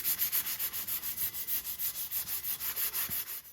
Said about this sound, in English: I'm just taking a really fine needle file and I'm going through the shorelines on the lugs just to clean them up